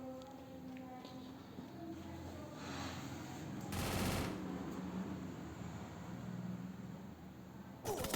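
A burst of automatic gunfire from the Free Fire MAX mobile game sounds in a ranked 4v4 match, a short loud rattle standing out from quieter game ambience.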